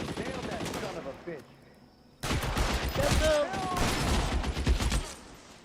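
Gunfire rings out in L.A. Noire during a shootout with enemies, in bursts of rapid shots. A short lull comes before a loud, sustained volley, and voices can be heard over the shooting.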